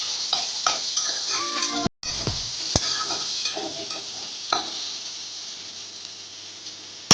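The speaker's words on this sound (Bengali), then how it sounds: "এরপর কেটে রাখা টমেটোটা দিয়ে দেব, দিয়ে আর একটু কষিয়ে নেব।" Chopped tomatoes sizzling in hot oil in a pan and being stirred, a steady bright frying hiss with intermittent scraping and clinking of the spoon, close up, with no speech.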